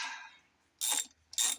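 A ratchet clicks in two quick bursts while loosening bolts on a blown-up 318 engine from a Ramcharger, close and crisp after a brief fading mechanical rattle.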